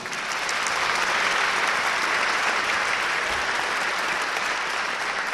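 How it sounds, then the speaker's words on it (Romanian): Dense, steady applause from a concert audience greeting a young violinist, a tenth-grade student at a music high school in Bucharest. The clapping is sustained and even, a continuous wash of many hands at full strength with no voices on top. "Să o aplaudăm!"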